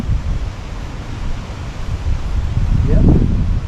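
Wind blows across the Cumberland River around a fishing boat, buffeting the microphone with a low, gusty rumble that grows stronger toward the end.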